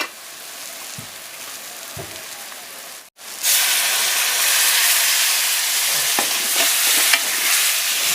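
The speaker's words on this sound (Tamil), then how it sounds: "தண்ணி ஊற்றிக்கலாம்." Water is poured into a pan of sizzling fish masala seasoned with chilli powder and coriander powder; quiet stirring gives way to a loud, sustained hiss and bubbling close by, with no voices.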